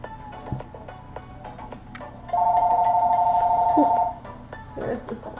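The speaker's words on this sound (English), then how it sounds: "There's the cell phone." A cell phone rings with a steady electronic tone that holds for about two seconds, loud and close, amid light background clicks and speech.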